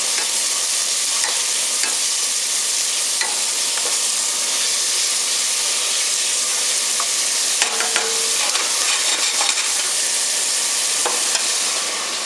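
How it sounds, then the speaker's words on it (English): Stewed tomatoes seasoned with table salt cook in a pan, giving a steady close sizzle and hiss throughout, with occasional soft clicks of a utensil stirring the pot. "Now I'm making stewed tomatoes."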